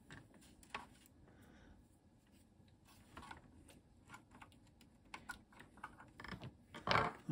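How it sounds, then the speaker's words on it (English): Close clicks and clatter of a Tesla PMD 85 home computer's keyboard being unplugged, scattered small plastic knocks building to a sharper burst of rattling near the end, alone without talk. "Let me just disconnect the keyboard."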